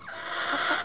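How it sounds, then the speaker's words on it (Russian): A farmyard chicken clucking close by, one brief drawn-out cluck rising and falling, fairly quiet and alone. "Курица."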